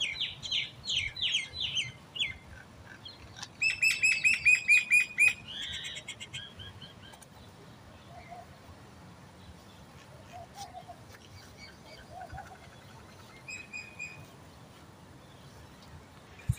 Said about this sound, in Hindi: ये चिड़ियों की चहचहाहट मुझे ये सोने नहीं देती।